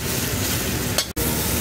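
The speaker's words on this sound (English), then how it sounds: "Sizzling away." Bacon sizzles steadily in a pan, a dense crackling hiss up close, briefly interrupted by a short stir before the frying resumes.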